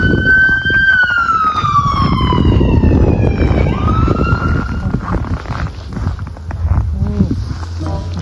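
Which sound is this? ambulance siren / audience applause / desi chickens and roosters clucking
ambulance siren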